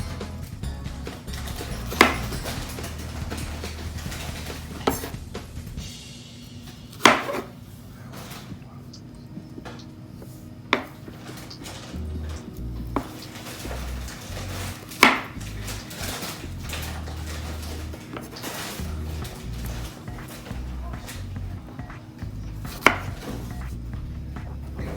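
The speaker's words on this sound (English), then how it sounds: "So we're gonna chop up these strawberries." Knife chopping fresh strawberries on a cutting board for a strawberry pie, with sharp, widely spaced knocks of the blade against the board over a low kitchen background hum.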